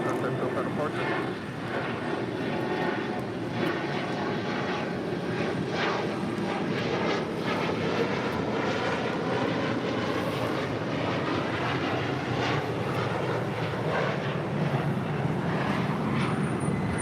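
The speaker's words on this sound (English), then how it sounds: "This is Cathay Pacific Cargo 2080 coming in from Dallas Fort Worth on a 15-year-old 747-400 freighter." A 15-year-old Boeing 747-400 freighter arriving at LAX after a flight from Dallas Fort Worth, its engines a steady broad roar held throughout, with radio talk and speech heard over it.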